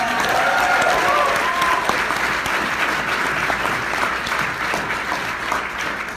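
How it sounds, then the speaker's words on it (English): Audience applause at a Rain International corporate summit, loud sustained clapping from a large crowd that holds steady for several seconds before easing slightly, with a few voices faintly audible at the start. "Let's give them a round of applause, right?"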